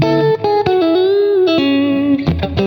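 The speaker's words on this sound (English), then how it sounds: "And we can do the extra compression." An electric guitar plays a short sustained melodic phrase with bends through a Quad Cortex modeler set for a David Gilmour tone with extra compression, loud, smooth and even, with no talking.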